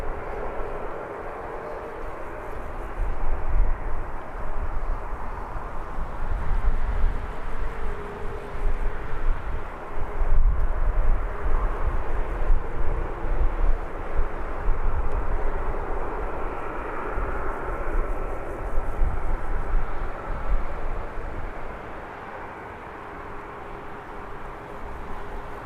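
SunExpress airliner at Birmingham Airport, its jet engines giving a steady broadband roar that swells and fades slightly over nearly half a minute, heard from a distance with no talk.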